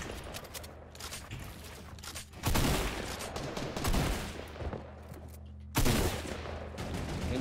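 Rapid bursts of gunfire in the video game Fortnite, loud and close, with heavy volleys near the start and several sharp, dense flurries repeating throughout over a steady game background.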